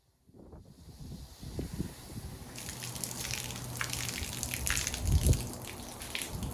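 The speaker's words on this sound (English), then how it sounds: "hopefully doing it this way helps to feed all the water out of the nozzle at the open end" Water gushes from the open end of a 100-foot expandable garden hose nozzle as it drains, a steady hissing rush that builds after a quiet start and carries on with splashing and low bumps.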